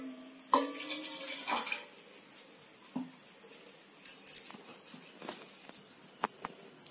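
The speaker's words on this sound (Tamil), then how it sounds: "நான் இளநீர் தண்ணி ஊற்றிட்டேங்க." Tender coconut water poured into a pot of payasam, with splashing and trickling that starts strong and fades into scattered drips and small clinks.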